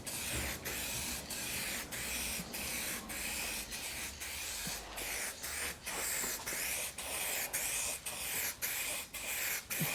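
Clear coat sprayed onto vehicle taillights, a steady close hiss broken by short regular pulses as the spray nozzle is pressed and released about twice a second, alone and fairly quiet.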